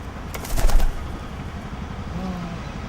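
A released pigeon taking off, with a short burst of wing flaps up close that quickly fades into background noise.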